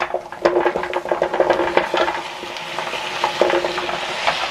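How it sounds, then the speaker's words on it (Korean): Radish and taro frying in perilla oil in a hot pan, a close crackling sizzle with busy scraping and stirring strokes, loudest at the start and then settling into a steadier fry. "달궈진 팬에다가 들기름 이렇게 두 개를 넣고 여기에 손질된 무와 토란을 넣도록 할게요."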